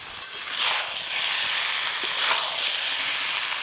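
Fried potatoes, jackfruit and prawns hit hot spiced masala in a pan, raising a loud continuous sizzle with steady frying hiss and small bursts as the pieces settle.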